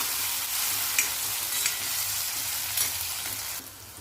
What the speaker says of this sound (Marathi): कांदा आपण छान तांबूस रंगावर असं भाजून घेऊया तेलामध्ये